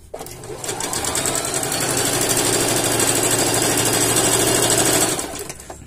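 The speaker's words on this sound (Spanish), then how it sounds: "ahora vamos a darle una costura de carga." Heavy-duty sewing machine stitching a load-bearing seam, running in a steady fast mechanical chatter for about five seconds at close range, starting and stopping abruptly.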